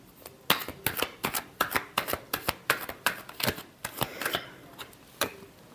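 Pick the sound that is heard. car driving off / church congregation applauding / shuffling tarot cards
shuffling tarot cards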